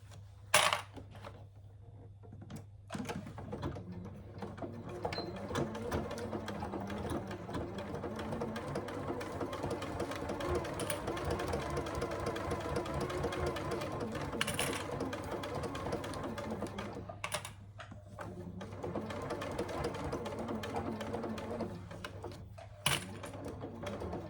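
A sewing machine runs a quarter-inch seam along the long and curved edges of a Scarlett hobo bag, a continuous close mechanical whir with steady rapid needle clatter, briefly pausing near the start and end.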